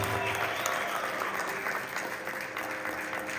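Audience applause fills a live concert hall at a Baha'i-themed benefit concert in Bellevue, Washington, a steady dense wash of clapping and crowd noise sustained throughout without a break.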